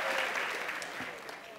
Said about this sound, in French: c'était Varney Barney, vous avez le droit d'applaudir